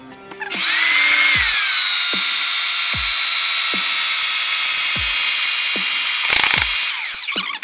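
Electric mixer whipping American buttercream with icing sugar at high speed: a loud, steady high-pitched whine runs almost the whole clip after a brief start-up, with faint periodic knocks underneath and a slight wobble near the end.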